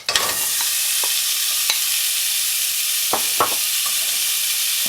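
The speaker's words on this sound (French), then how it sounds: "faire sauter tout cela, juste le temps de l'attendrir un tout petit peu" Vegetables sauté in a hot pan ahead of ground meat for a shawarma-style pizza, giving a loud, constant sizzle with a few sharp clicks and scrapes of a utensil against the pan.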